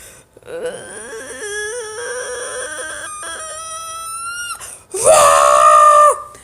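A storyteller's voice imitates a flamingo's loud scream: a shrill, harmonic shriek lasting about a second, near and forceful, following a stretch of higher-pitched, sung-like vocal sounds.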